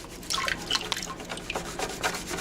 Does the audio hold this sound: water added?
yes